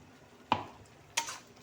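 A spoon scrapes through tomato paste in a frying potato and aubergine curry, two sharp stirring clacks against the pan about half a second apart over a faint, quiet sizzle.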